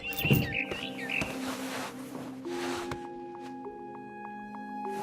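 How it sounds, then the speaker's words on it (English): A barn swallow chirps in the video game What Remains of Edith Finch, a quick cluster of bright twittering calls at the start, fading into a soft, sustained musical drone. "Then I heard chirping outside my window. It was a barn swallow going back to her nest."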